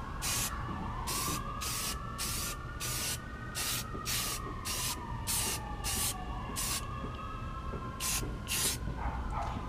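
Aerosol spray paint hisses in a steady series of short, even bursts as light coats go onto metal arcade game parts, with a faint background whine running beneath, close and moderately loud.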